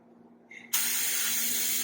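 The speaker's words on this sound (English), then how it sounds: "this is spraying in like a tight circle pattern" An HVLP spray gun sprays dye in a tight circle pattern for detail work, a loud steady hiss that starts abruptly after a brief softer puff and holds evenly to the end.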